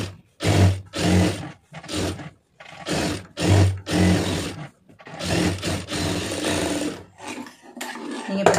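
A sewing machine stitches along the seam of a lined blouse in repeated bursts of steady whirring, each run lasting about half a second to two seconds with short pauses between, ending in one longer continuous run, close and fairly loud.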